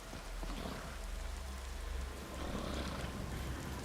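A sustained downpour in Skyrim VR hisses broadly and steadily, with a low rumbling undertone. It stays loud and continuous throughout, with no one speaking.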